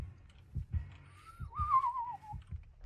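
Heartbeat from the video game Dead by Daylight, with the killer Michael Myers in the match: soft, low double thumps repeat steadily while a thin, wavering whistle-like tone rises and fades over them.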